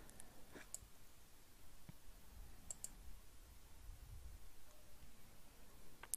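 A computer mouse clicking quietly: a handful of sharp, isolated clicks spaced a couple of seconds apart over a faint, hissy room background.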